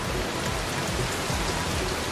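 Heavy monsoon rain pours down steadily near the overflowing Willingdon dam, a dense, continuous hiss that stays loud and even throughout with no voices.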